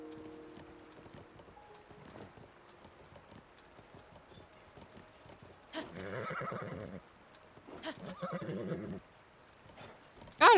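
A horse in The Legend of Zelda: Tears of the Kingdom neighs twice in a row, loud whinnies rising over soft hoof clip-clops and a quiet background.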